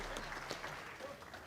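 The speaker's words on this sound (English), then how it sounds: "And a warm applause, and rightly so." Faint, distant applause from a boxing crowd after a knockout on a fight night undercard, a steady patter of clapping heard well back in the arena.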